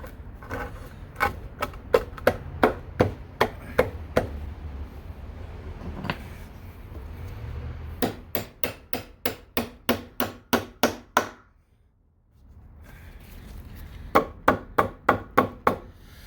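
Hammer blows drive a carriage bolt into a wooden staircase handrail: sharp, close taps in quick rhythmic runs, several series of strikes with a short pause near the end before a final flurry.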